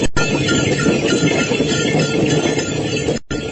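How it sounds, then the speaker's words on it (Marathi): A bullock cart rolls along with a continuous rattling, creaking clatter of wheels and wood, loud and close, with faint clinks mixed in before it briefly drops away near the end. "बैलगाडी. Yes, bullock cart."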